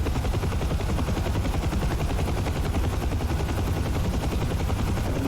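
Steady, dense rotor chop of a UH-1 Huey helicopter in the DCS flight simulator, heard in external view as a loud, continuous thumping drone that holds even for the whole stretch with no talk.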